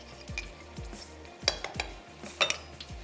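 Utensil stirring yogurt into channa palak, chickpeas and spinach in a pot, with several sharp clinks and scrapes of metal against the pot alongside soft stirring and faint sizzle.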